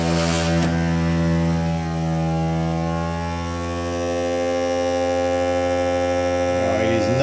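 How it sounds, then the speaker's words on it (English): A vacuum forming machine pulls vacuum on a mold for a model race car body, a steady loud tonal hum with strong harmonics droning throughout, dipping slightly midway and swelling again near the end. "Alright, time to vacuum."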